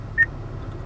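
One brief, clean prompt beep from the Acura voice command system sounds early, moderately loud against a quiet car interior hum, then silence follows.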